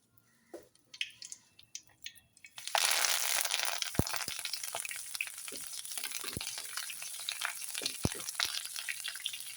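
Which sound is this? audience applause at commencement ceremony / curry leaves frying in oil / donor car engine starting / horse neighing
curry leaves frying in oil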